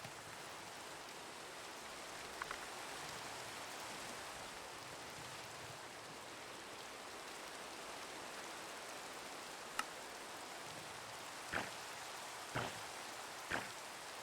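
Steady soft rain in Minecraft hisses in the background, with a few sharp clicks and taps near the end.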